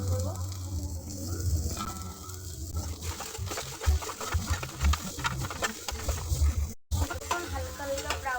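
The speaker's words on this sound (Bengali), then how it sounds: "খুব বেশি ভাজার দরকার নেই, হালকা ভাজলেই হবে।" Onions fry lightly in a pan for chicken dopeyaza, a soft sizzle running under repeated stirring and scraping, with a few louder knocks of the spoon against the pan.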